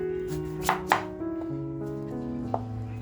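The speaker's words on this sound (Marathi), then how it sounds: "कांदा बघा अगदी बारीक कापून घेतेय" An onion being finely chopped with a knife on a board, a few sharp, distinct cuts spaced irregularly over a low background hum, close and fairly quiet with no talking.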